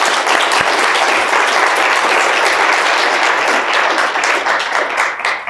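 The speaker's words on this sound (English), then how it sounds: "Round of applause." Loud, steady applause from an audience at a medical ethics colloquy, dense clapping sustained throughout with no talk over it.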